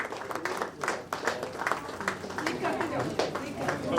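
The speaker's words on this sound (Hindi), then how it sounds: "तालियां बजाएं जोरदार" Audience applause at a Women's Day event honouring Mumbai Police women, rapid uneven clapping from a crowd that continues throughout, mixed with voices talking over it.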